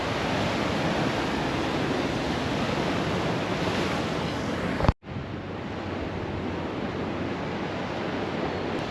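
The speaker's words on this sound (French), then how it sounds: "il y a beaucoup de vent, vous m'entendez?" Strong wind roars continuously across the microphone on a beach walk in Sydney, mixed with steady surf, loud and unbroken apart from a brief dropout midway.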